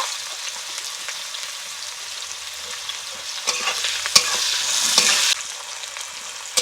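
Onion and tomato fry lightly in a pan, a bright close hiss with stirring scrapes that grow livelier toward the end, no speech.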